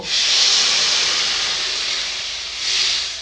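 Water poured into a hot pan of spiced patia fish curry with radish and potato hisses loudly and steadily, a strong close steam burst that dips briefly and then swells again.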